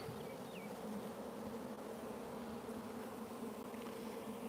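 A swarm of bees buzzes steadily around a tree high up, a dense continuous hum of many insects at close range with no talking.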